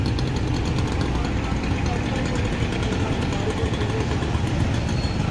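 A motorcycle engine runs steadily close by with a loud, rough, constant drone while riders talk over it.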